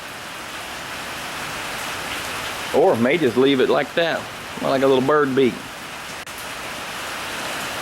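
Steady rain hisses throughout, close and even, while someone talks briefly over it in the middle.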